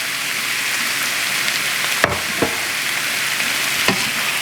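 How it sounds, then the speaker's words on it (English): Chopped sausage pieces fry in a pan with a steady, loud sizzle, broken by a few sharp clicks and knocks, with no talking. "So now we're gonna add the sausages."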